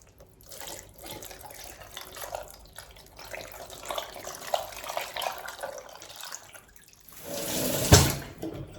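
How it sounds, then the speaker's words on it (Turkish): Water poured from above over stuffed peppers sitting in a cooking pot, a steady close splashing and trickling that runs for several seconds before a brief louder splash near the end. "Şimdi bu suyumu böyle gezdiriyorum üstünden."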